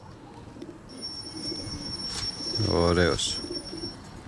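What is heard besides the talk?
pigeons cooing in a loft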